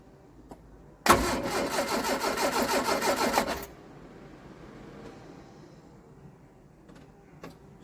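A Triumph Spitfire classic car engine cranks over on the starter in a steady, rapid chugging rhythm for about two and a half seconds, loud and close, then stops without firing.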